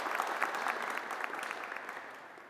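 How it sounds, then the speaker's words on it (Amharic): An audience at a televised tractor competition final applauds in a brief, dense burst of clapping that gradually fades over a couple of seconds, with no speech. "ለእኔ አጨብጭቡልኝ፣ ለእነሱም አጨብጭቡላቸው።"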